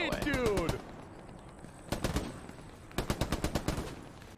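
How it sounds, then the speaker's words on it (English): Gunfire in the video game Hell Let Loose, where bullets ricochet: sharp bursts of machine-gun shots in clusters, with a whizzing streak at the start and repeated rattling volleys afterward, loud and fairly close. "That was a ricochet."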